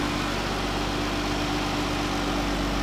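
A 2014 Dodge Ram cargo van's 3.6 liter engine idles steadily, a smooth low hum heard up close under the open hood with no speech.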